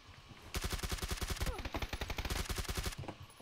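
Rapid automatic gunfire from the video game PUBG, a long sustained burst of loud, evenly spaced shots lasting about two and a half seconds after a brief quieter lead-in, with no voices over it.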